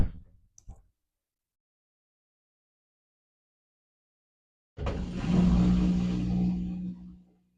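A battery-powered clothes washer spinning up, starting after a long silence with a sudden loud low hum and rumble that holds steady for a few seconds before fading slightly, close by.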